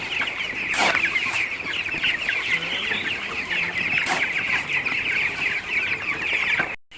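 A flock of farm chickens clucks continuously while being fed, a dense, close chorus of overlapping clucks and squawks with a couple of louder bursts, and no talking.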